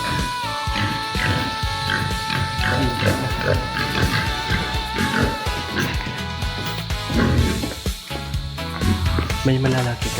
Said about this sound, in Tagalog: Tapos dito naman yung mga baboy.